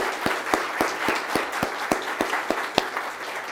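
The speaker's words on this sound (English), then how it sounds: "I'd like to give a round of applause to all of them" Applause for the speakers at a banquet, heard as a steady series of individual claps, evenly spaced and fairly close, with no talking over them.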